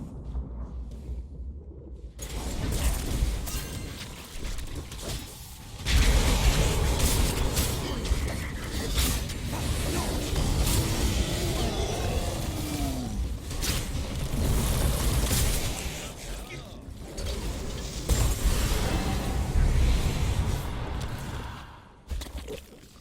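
Heroes of the Storm game audio as a fort is destroyed: loud, dense rumbling crashes and grinding mechanical creaks rolling on for about twenty seconds, with a sharp surge in intensity early on and fluctuating booms throughout.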